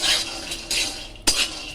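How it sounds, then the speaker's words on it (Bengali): Roasted peanuts being stirred in a pan at home, giving a few close, light scraping and clinking strokes of a utensil against the pan with short pauses between them. "বাদামগুলো কত সুন্দর ভাজা হয়ে গেছে। চিনি বাদাম"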